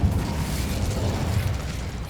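In Hogwarts Legacy, a cast Incendio fire spell gives a rumbling, crackling burst of flame. It is a dense, low whoosh that keeps up steadily with no speech.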